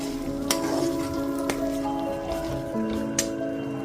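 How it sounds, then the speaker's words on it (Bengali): Whisked sour yogurt stirred into a pan of cooking paneer curry, a soft wet sizzle with a few sharp spoon clinks against the pan and a steady background hum. "টক দইটা দিয়ে খুব ভালো মতো মিশিয়ে দেব"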